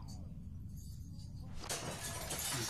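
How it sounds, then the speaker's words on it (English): In The Walking Dead video game, a bat strikes window glass and it shatters with a sudden bright crash and tinkling debris, following a brief quieter stretch, with no talk during the break. "Use the bat to shatter that window so you can reach in, okay?"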